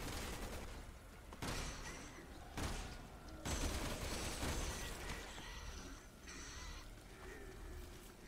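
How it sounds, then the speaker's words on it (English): Chris fires away in Resident Evil 6, a faint, distant-sounding spread of rapid shots and bursts mixed with crashes and rumbling under a busy game soundscape. "Not sure why, Chris is shooting"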